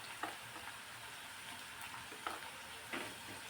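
Turmeric and red chili powder, with ginger and garlic, fry in hot oil for a green bean and potato bhaji, making a faint, steady sizzle with a few soft scraping stirs.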